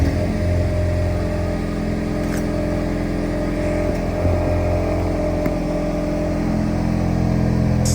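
Deep, steady exhaust drone from a 2017 Ford Mustang EcoBoost on a cold start at night, a loud, continuous low rumble idling evenly with slight fluctuations throughout and no talking.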